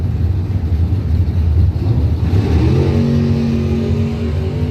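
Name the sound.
drag racing cars launching down the track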